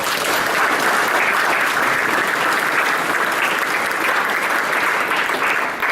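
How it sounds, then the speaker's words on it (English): Sustained audience applause at an event fills the whole stretch, a dense steady wash of many hands clapping at even loudness from start to finish. "Let's give them a round of applause"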